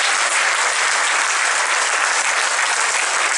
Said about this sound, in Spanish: Un aplauso maravilloso al Señor.